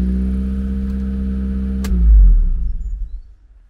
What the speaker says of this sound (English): the revs just seem to be starting to pick up then